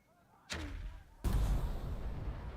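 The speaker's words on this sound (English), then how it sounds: "Let's creep forward and drop our mortar on this enemy MG to keep him pinned." Mortar fire in the World War II tactics game Burden of Command, a sharp launch thump followed by a heavy, booming impact that rumbles on, fairly close and loud, with no talking.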